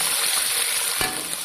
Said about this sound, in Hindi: लहसुन लाइट गोल्डन हो चुका है, अब इसके अंदर चिकन डाल दें।